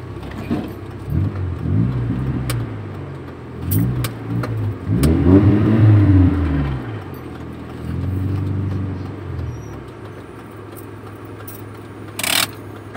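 A car rolls up and parks in front of a house, its engine rising and falling through a few low surges before settling, with a couple of sharp clicks and a short clatter near the end.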